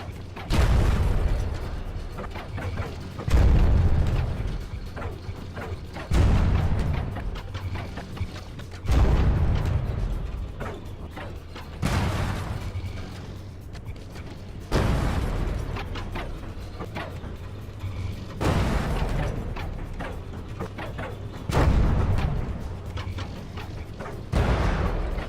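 Tank shells bursting in a From The Depths tournament battle, the Ambassador against the Manticore: heavy booming impacts land every few seconds in a steady rhythm, each followed by a rumbling low tail under continuous mechanical noise.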